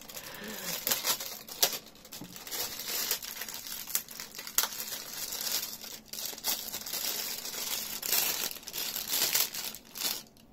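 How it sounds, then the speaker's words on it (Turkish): A rustling plastic bag handled while unboxing a microphone stand set with shock mount and pop filter, continuous close crinkling and crackling for several seconds. "hışır eden bir poşetimiz var."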